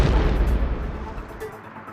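A burning car explodes, a loud deep blast with rumbling low-end debris that slowly decays over two seconds, close and heavy, with no speech.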